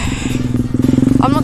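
Pit bike motorcycle engine revving while being ridden, a loud, close, buzzing pulse that quickens toward the end, with a voice breaking in briefly.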